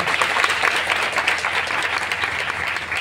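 Steady, loud hand clapping from a crowd at a youth church gathering, a dense continuous applause with no break.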